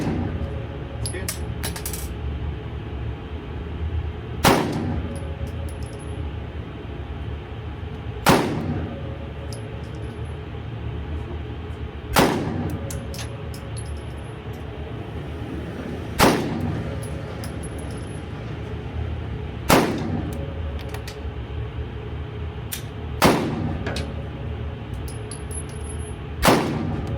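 Seven single pistol shots from a Phoenix Redback Gen 2 firing Geco 124-grain rounds at a 25-metre target, evenly spaced about four seconds apart, each a sharp loud crack over steady background hum.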